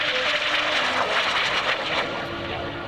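An F-86 Sabre jet roars past at low altitude on a flat pass during an air base open house airshow, a loud sustained engine rush close overhead that slowly fades.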